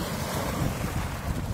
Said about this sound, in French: Moi, c'est le son des vagues que j'adore.